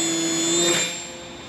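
A radio-controlled bush plane's electric motor runs up at about 70% throttle for takeoff in calm wind, a steady loud whine with a rising pitch that peaks and then fades as the plane pulls away, with no talking.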